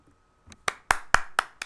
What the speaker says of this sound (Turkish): Hatta harbiden alkışlıyorum yani.